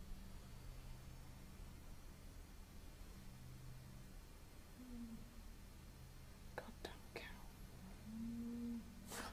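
A cow at Michelham Priory gives a couple of faint, low moos, one around the middle and a slightly louder one near the end, against a quiet hiss with a few soft knocks.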